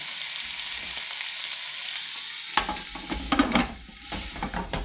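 Thick-cut pork belly sizzles in a frying pan, a steady hiss that grows busier halfway through with spattering pops and a few scrapes, close and without speech.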